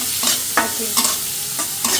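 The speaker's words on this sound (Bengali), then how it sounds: "পেস্টটি ভাজা হয়ে গেলে আলু ভাজা করুন" Potatoes fry in a pan with a spice paste, and a utensil scrapes and stirs in steady, repeated strokes over a continuous close sizzle. No one speaks.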